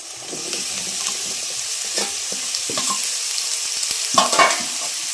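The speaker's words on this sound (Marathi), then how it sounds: "जिरं कांदा चांगला लाल करून घेऊया भोपळ्याची भाजी घालते आता" Pumpkin pieces added to cumin and onion frying in a pan over a wood-fired stove, continuous sizzle with scraping stirs and a louder clatter near the end, no voices.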